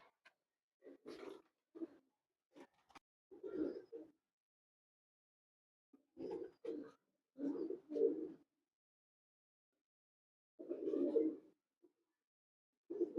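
Teddy pigeons coo in short, throaty bursts, a few close calls spaced irregularly with quiet gaps between them, no talk over them.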